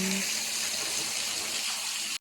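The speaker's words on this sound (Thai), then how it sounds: "นี้เรามาดูตรงน้ำตกเล็กๆกันนะคะ" A small forest waterfall with a steady rushing, splashing flow heard close up, continuous and even throughout before cutting off abruptly at the end.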